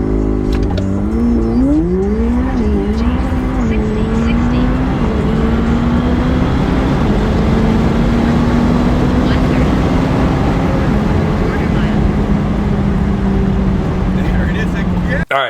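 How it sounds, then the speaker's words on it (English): A McLaren 765LT accelerates hard on a public street, its engine revving loudly and climbing through several gear shifts, then holding a long sustained roar for the rest of the run. "This is actually my best 765LT run on the street."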